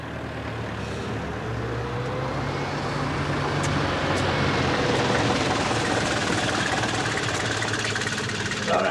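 Taxi engine running steadily, a constant rumbling drone with a low knocking throb, close and fairly loud, no speech over it.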